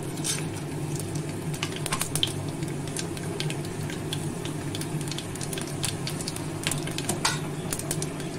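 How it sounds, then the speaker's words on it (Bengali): Panch phoron and a bay leaf crackle in hot oil in a pan, a steady close sizzle with frequent sharp pops and spits scattered throughout. "তেল গরম হয়ে গেছে, এখন আমি এতে 5 ফোড়ন আর তেজপাতা"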